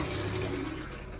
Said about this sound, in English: and also our toilet flush